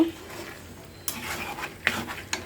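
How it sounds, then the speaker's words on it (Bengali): Potatoes stir-fried in a pan in a home kitchen: a low sizzle broken by three distinct spatula scrapes and knocks against the pan, close and fairly quiet, with no voices. "আলুটা ভালো করে একটু কষিয়ে নিব"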